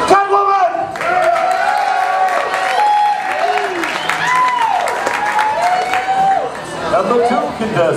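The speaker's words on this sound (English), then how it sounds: "Let's hear it for number three" A comic-strip variety showcase crowd claps and cheers for a contestant, dense applause with whooping and shouted voices rising and falling, loud and close.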